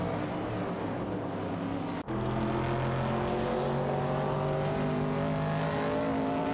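Race cars in a video game, a Holden Torana A9X and a Porsche 906, roar loudly and steadily with sustained engine drone and shifting pitch, briefly dipping once before carrying on.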